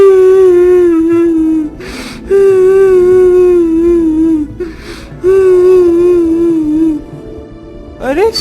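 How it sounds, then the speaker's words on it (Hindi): Crying voice in a jungle from an animated story, a wavering high wail in three long sobbing phrases separated by short breathy gasps, close and loud with no other talk. "ये रोने की आवाज किसकी है?"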